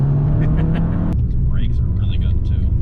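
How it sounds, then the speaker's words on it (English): A Fiat 500 Abarth four-cylinder engine growls loudly up close on a twisty road, then cuts off abruptly with a brief hiss and flutter of the turbo as the revs drop. "It's a really cool blend of 4-cylinder growl and some turbo whistle."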